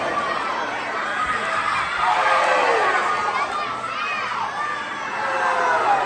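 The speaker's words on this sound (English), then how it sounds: "that young man cheering on Taino" A crowd at a FLOW wrestling event cheers and shouts continuously, with children's high voices rising and falling over a noisy, excited arena din.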